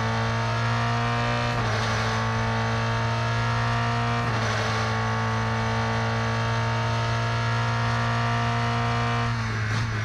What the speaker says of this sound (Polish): Taki jest dźwięk tego samochodu